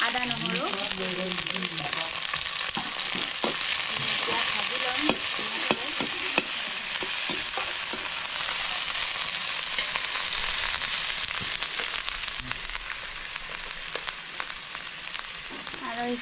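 Ginger, garlic and onion with whole cumin frying in a pan, a loud, dense sizzle that runs unbroken, with frequent crackles and stirring scrapes.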